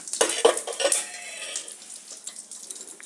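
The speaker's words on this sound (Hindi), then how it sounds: "कढ़ाई हमारी गर्म हो चुकी है, इसमें डालेंगे एक टेबल स्पून तेल और इसमें डालेंगे थोड़ा सा हींग" A pinch of asafoetida drops into a tablespoon of hot oil in a kadai, giving a sharp burst of sizzling and crackling with metal utensil clinks, then fading to a softer fizz; no voices.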